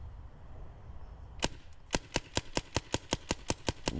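A magfed paintball marker in a Generation Kill paintball game emptying a full magazine for suppression: about ten sharp, evenly spaced pops in rapid rhythm after an isolated first shot, close and crisp over outdoor background noise.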